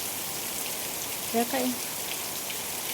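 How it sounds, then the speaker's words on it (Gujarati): Heavy rain pouring steadily over a flooded village yard after days of downpour, a continuous dense hiss, with a voice briefly speaking midway. "પરમદીનો આવો ને આવો વરસાદ ચાલુ છે."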